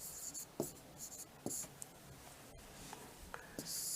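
Handwriting with a pen on paper comes through as soft, close scratchy strokes in short uneven bursts, with quiet pauses between them and faint low murmuring underneath.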